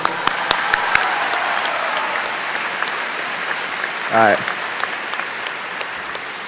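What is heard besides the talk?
graduation audience applause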